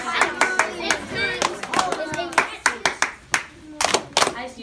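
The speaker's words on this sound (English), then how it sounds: "I just used that clap." Sharp hand claps ring out in an indoor CGI lesson, a string of crisp, close, irregularly spaced slaps with voices talking between them.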